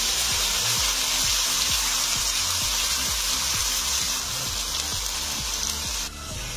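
Onion and ginger-garlic paste fry in a pan for a Bengali bhetki fish curry with potatoes, a loud, continuous close-up sizzle with a steady rhythmic pulsing underneath and no talking.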